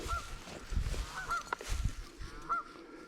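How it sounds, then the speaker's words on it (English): Geese honk outdoors near a nesting area, a few short nasal calls spaced irregularly over a faint background, moderately near and with no talking. "Oh, the big honkers."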